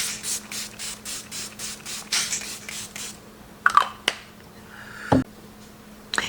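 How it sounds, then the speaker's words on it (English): A series of short, quick hisses of makeup setting spray in a steady rhythm, followed by a few sharp clicks and taps; close and soft. "I will do one more little sandwich of my setting spray."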